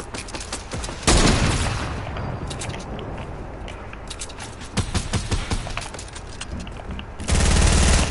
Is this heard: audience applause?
no